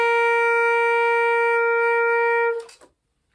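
Tenor saxophone holding one high C for about two and a half seconds, a steady, reedy sustained tone heard up close with no other sounds, fading out with a brief breathy cutoff.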